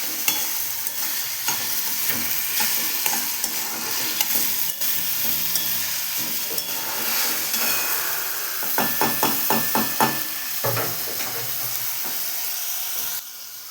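Tomato puree and spices sautéing in a pan for a Kathiyawadi kaju gathiya curry, a steady sizzle with spoon scraping and a run of sharp stirring knocks near the end, close and without talk.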